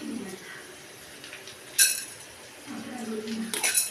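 Chana dal is tipped into a pan while making spicy ivy gourd ulli karam: two quick, bright rattling clatters of lentils hitting metal, with soft kitchen clinks and faint background noise between them.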